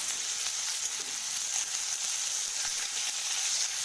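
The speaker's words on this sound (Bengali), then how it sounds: "দেখুন আমি তেল দিয়ে দিয়েছি, এরপর আমি চিকেনটাকে ছেড়ে দেব।" Chicken frying in hot oil in a pan makes a continuous, even, close sizzle and hiss with no voices.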